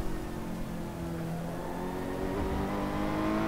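Ferrari 488 GT3 engine in the Assetto Corsa racing game, a steady loud drone with rising harmonic tones as it revs up under acceleration through a lap, continuous with no talk.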